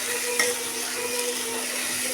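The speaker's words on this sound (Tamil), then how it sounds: "கோவக்காய் போட்டாச்சுங்க, நல்லா வணக்கி விட்டுடலாங்க." Chopped ivy gourd sizzling steadily in hot oil in a pan on low heat while being stirred, with one faint utensil clink early on; a continuous close hiss and crackle.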